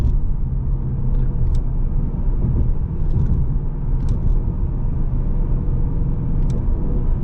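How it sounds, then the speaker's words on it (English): A 2024 Mustang GT with a factory tune downshifts while taking a highway exit, its engine a steady, loud rumble under constant road and tire noise inside the car, with a few faint clicks and no talking. "We're actually taking an exit right now, and I'm gonna downshift."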